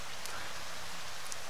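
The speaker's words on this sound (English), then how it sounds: "you can hear rain outside" Soft, even rain hiss heard from indoors in a video game level, a quiet, muffled outdoor downpour with no distinct drops.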